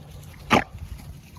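A single short bark from a Co-op Kennel dog with DDK9 bloodline, one sharp burst rising out of a low background rumble and then fading into quiet.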